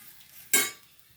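Grated coconut roasting in a pan gets one quick, clinking scrape of a spoon, a brief burst over a faint, quiet background.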